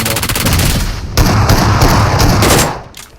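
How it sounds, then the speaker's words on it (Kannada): Loud, continuous burst of battle royale game gunfire and explosive bomb booms, dense and rapid, dropping off abruptly near the end. "ಬಾಂಬ್"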